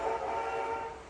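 A model train controller sounds a steady train whistle effect, a sustained tonal blast lasting about a second, fairly loud and alone.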